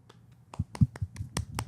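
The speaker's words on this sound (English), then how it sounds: "the clap sound effects in there, Robert." Clap sound effect played in a podcast studio, a short run of about nine sharp, crisp hand claps in an uneven rhythm, close and clear with no talk.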